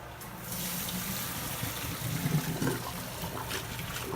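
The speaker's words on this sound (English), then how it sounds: "we're going to pour the noodles in." Cooked spaghetti noodles and their water pour from a pot into a colander over a kitchen sink, a steady splashing rush for several seconds, close and without talk.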